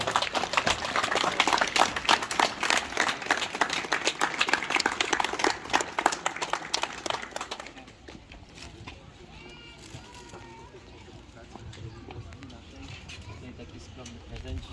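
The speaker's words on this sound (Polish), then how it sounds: "Duże brawa" A crowd at a volunteer fire brigade ceremony in Wadowice Dolne bursts into loud, dense clapping that lasts about seven seconds, then gives way to quieter talk and murmuring.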